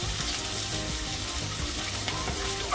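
Chopped onion and garlic fry in a pan with a steady, dense sizzle that crackles evenly throughout, close and alone with no voices.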